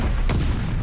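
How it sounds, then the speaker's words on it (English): A brief deep boom from a friendly bombing run in Call of Duty Vanguard multiplayer, a single heavy explosion-like thud under loud game noise lasting under a second. "Friendly bombing run on the way."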